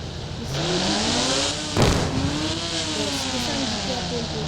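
A Nissan GT-R in a video game drives with a continuous engine whine whose pitch climbs and falls through gear changes. A short burst of noise sits in the middle, and a voice speaks over it.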